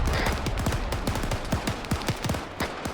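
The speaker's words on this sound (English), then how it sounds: "I'm still hearing gunshots from up there." Rapid bursts of video game gunfire crackle continuously from a hilltop, sounding somewhat distant and layered, with overlapping shots in an irregular, dense rhythm.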